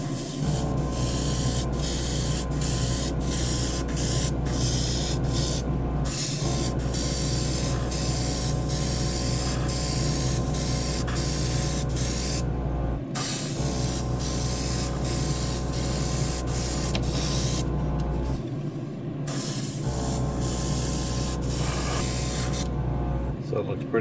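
A Gaahleri Turbo X compressor drives an airbrush spraying paint on a model car, giving a steady close hiss over a constant low motor hum that runs almost continuously, with a few brief pauses and regular short clicks.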